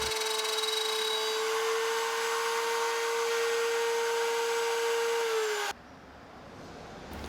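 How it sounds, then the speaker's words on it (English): A wood router fitted with a straight spiral bit cuts a groove in wood for a table lamp, a loud steady high whine held close for about six seconds that then winds down and stops. "On the router, I used a straight cutoff bit, spiral thing, and I just put a little groove in there."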